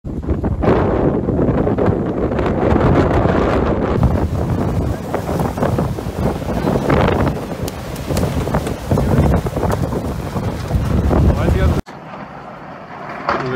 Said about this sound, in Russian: сильных порывах ветра со скоростью от 70 до 90 км в час